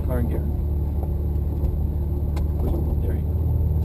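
A blue Porsche's engine idles in gear with a steady low rumble throughout, people talking nearby over the running motor.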